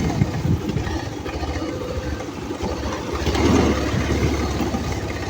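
Motorbike engine labouring on a slippery wet dirt road near the Thurpa river, a loud close rumble that swells and steadies without any speech.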